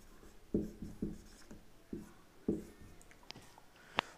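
Close, soft scratching and tapping of pen on paper as a maths formula is written out, in short irregular strokes with a sharp tap near the end.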